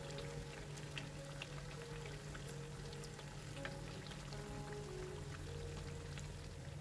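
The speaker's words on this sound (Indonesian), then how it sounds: "Dan kita lanjut goreng di bagian sisinya hingga matang ya." Battered fritters frying in a wok of hot oil, a steady dense sizzle with scattered crackles and pops running continuously at moderate level, no voices.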